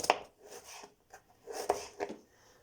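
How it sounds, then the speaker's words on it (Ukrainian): A knife finely dices onion on a cutting board in short bursts of quick, crisp strokes with brief pauses between, close and fairly quiet. "Нарізаю цибулю"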